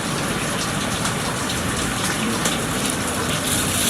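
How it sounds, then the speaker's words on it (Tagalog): Steady, heavy rain pours down without pause, a dense hiss of drops drumming on surfaces close by. "tuloy-tuloy na naman yung ulan"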